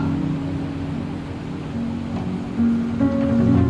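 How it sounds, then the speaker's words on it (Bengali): A stormy sea churns in a steady roar of rushing waves, surging louder toward the end, with soft sustained musical tones underneath. "খানিক বাদে ঝড় উঠেছে, ঢেউ উঠেছে ফুলে।"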